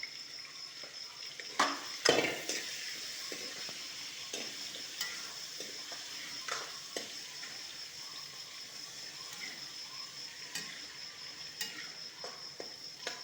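Chicken pieces frying in a pan beside potatoes seasoned with turmeric, a steady close sizzle with occasional stirring scrapes and clicks throughout, no talking.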